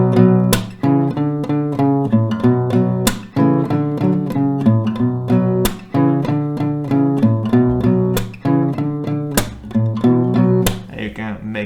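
Acoustic guitar strums a riff in a steady repeating chord pattern, with sharp percussive slaps or muted hits every couple of seconds, close and loud, no voice over it.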